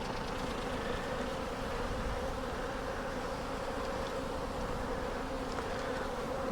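Dense, steady buzzing of a large swarm of honey bees milling around a hive after feeding, a continuous droning hum at close range with no talking.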